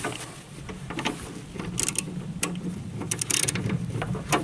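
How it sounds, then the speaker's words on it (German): A bolt is tightened on a lawn mower blade being refitted after sharpening, giving close metallic clicking, ratcheting and clinking in short bursts over a low background hum, with no talk. "Und dann die Schraube anziehen."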